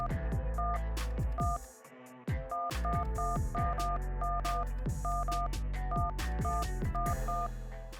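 iPhone dialing a voicemail code, a quick series of distinct beeping DTMF keypad tones in an irregular rhythm, close and clear with no talking.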